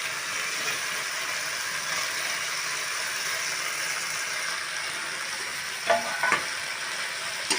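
Potatoes fry in a pan of spiced masala with a steady close sizzle, and a few brief scraping stirs come near the end.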